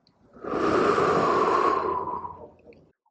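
One long, steady exhale during a breathing exercise for dancers, breath pushed out through the mouth for about two seconds, close and fairly loud, then fading away.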